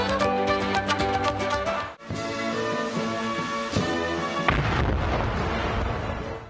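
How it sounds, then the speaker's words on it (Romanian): Ceremonial cannon salvos fired in the Serbian capital during a state welcome for China's leader, heard as a continuous run of loud, booming blasts with a brief gap near the two-second mark. "Au fost trase și salve de tun."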